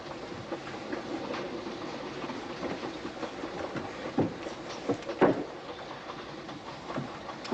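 Steady rumble and clickety-clack of a moving passenger train in the 1946 Sherlock Holmes film Terror by Night, continuous wheel-on-rail noise with a few louder knocks and jolts, no voices.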